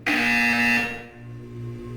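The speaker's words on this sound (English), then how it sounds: "You will hear a buzzer." A loud, harsh electronic buzzer from the video game Portal 2 blares steadily for under a second, then cuts to a quieter lingering hum.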